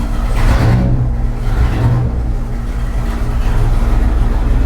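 A car engine on a dynamometer is revved toward 5,300 RPM, giving a loud, steady, heavy drone that holds with slight surges and no talk.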